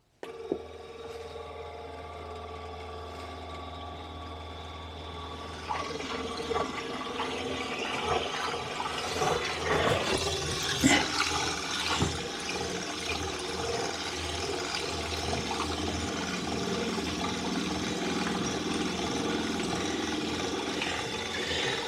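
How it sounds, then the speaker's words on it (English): A household water pump switching on to pressurise the system and fill a hot water tank, a steady mechanical hum that grows fuller and more turbulent with gurgling, airy water rush after a few seconds, continuing alone without talk. "Right, going to have a go now at turning the pump on, seeing what happens."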